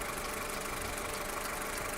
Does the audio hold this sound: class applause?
no